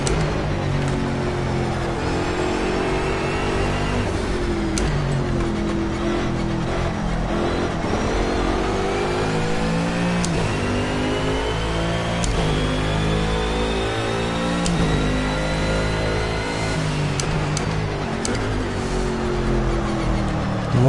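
A race car engine in the Project CARS racing game drones steadily and loudly throughout, rising and falling in pitch as the car accelerates and brakes, with no talk.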